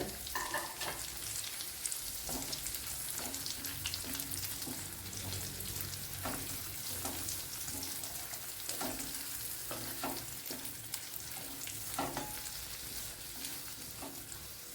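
Chopped carrot sautéing in a pan for tomato pasta, a steady close sizzle broken by repeated scrapes and clinks of stirring.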